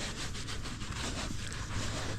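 A large farm animal, a hog raised for market in a pole barn, rubs its body against wood, giving a steady, continuous scraping and rubbing texture close by with no talk.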